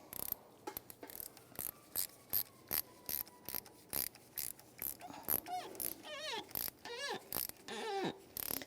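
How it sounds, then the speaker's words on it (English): Ratchet on an extension tightening a coolant temperature sensor on a 1999-2004 Jeep Grand Cherokee, a close series of crisp rhythmic clicking strokes, while a person speaks briefly in the later part. "go the rest of the way with the ratchet extension"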